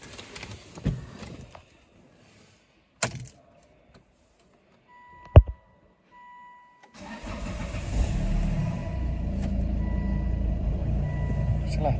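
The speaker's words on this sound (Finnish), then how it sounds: "Lyödään vielä auto käyntiin" A Volvo XC90 cranks and catches after a few quiet clicks and a warning chime, settling into a steady, close, rumbling idle that fills the rest of the stretch.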